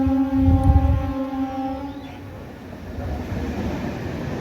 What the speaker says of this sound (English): So train is coming right now